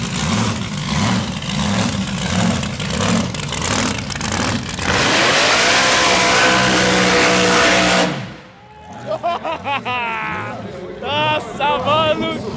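A 1500 hp Chevrolet Omega drag car's engine revs loudly and steadily, rising to a sustained roar before cutting off abruptly, followed by excited voices talking nearby.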